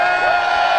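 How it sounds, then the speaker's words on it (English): A rally crowd at a clean air protest lets out a steady, sustained cheer and whooping, loud and continuous throughout, with no clear pauses. "Can I get a little cheer?"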